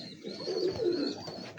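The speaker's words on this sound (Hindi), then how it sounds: "प्योर कसूरी कबूतर है ये आप" Pure Kasuri pigeons coo on a rooftop, a single soft, low, rolling coo heard up close over a faint steady background hiss.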